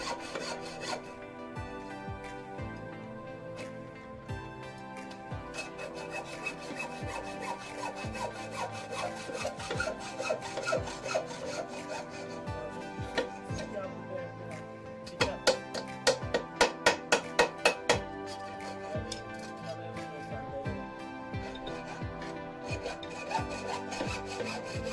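A cooking pot is filed by hand during traditional manufacture: steady, rhythmic rasping strokes continue throughout, with a burst of sharper, ringing scrapes near the middle. No one speaks.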